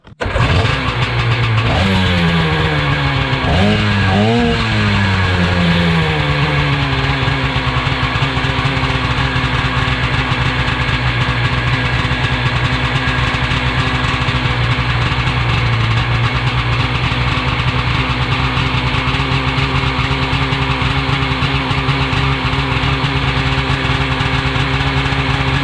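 A small engine sputters to life, revs briefly, then settles into a steady, loud idle that runs on without pause until the carburetor runs out of fuel.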